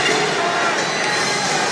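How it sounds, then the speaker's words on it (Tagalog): A basketball crowd roars in a packed arena during a finals game, a loud, dense and continuous wash of cheering with voices mixed in throughout. "The crowd is alive here at the PSU."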